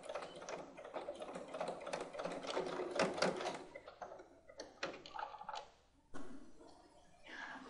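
An electric sewing machine runs in a steady close whir, stitching a bar tack on a trouser fly, then pauses briefly and starts again at a quieter level.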